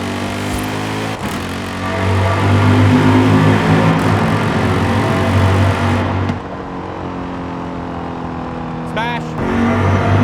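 The Lexus RC F GT3 race car's engine in Forza Horizon 5 roars loud and close, holding a high rev note, dropping briefly around six seconds and then climbing again.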